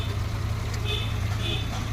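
A Maruti Omni van engine idles with a steady low drone and a fine rhythmic pulse at close range, unchanged in level for the whole clip.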